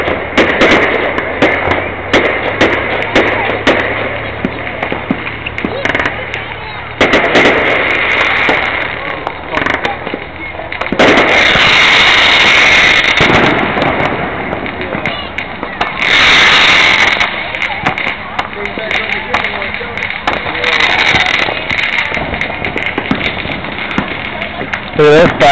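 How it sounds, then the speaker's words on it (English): Fireworks pop and crackle in bursts, with a couple of louder booming explosions, while people talk nearby. "Look at this firework. A big one going off back there."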